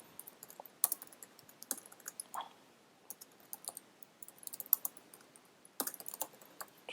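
Quiet, irregular clicks of typing on a computer keyboard, entering a folder name during setup of an iOS app project, with short bursts of keystrokes separated by pauses.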